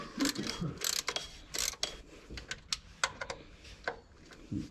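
Ratchet socket wrench turning a bolt on the alternator of a VW T4 Transporter 1.9 TDI, quiet repeated clicking bursts in short irregular runs, close by.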